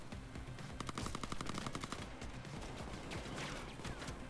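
SMG fire from a close-quarters shooter game, a rapid burst of automatic shots rattling for about a second, followed by scattered single shots and game noise, fairly quiet overall.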